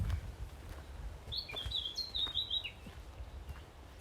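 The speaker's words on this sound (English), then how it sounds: "Oh, and the birds. Do you guys hear the birds as well?" A single bird gives a brief run of high chirps in the middle, faint against a quiet forest background in the Landgoed de Beek nature reserve.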